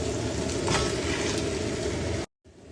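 Chicken pieces hit hot oil in a pot for Saudi chicken majboos, giving a steady, fairly loud broadband sizzle and crackle throughout that cuts off abruptly near the end.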